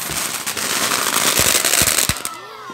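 Fireworks and firecrackers burst outdoors on a cold night in a rapid, loud, crackling volley of sharp pops that fades away at the end.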